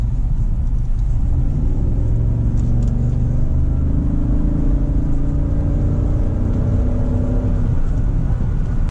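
A 2018 Chevy Tahoe with a 6.2-liter V8 accelerating hard, heard from inside the cabin as a loud, steady engine roar with rising pitch and road rumble throughout, no talk.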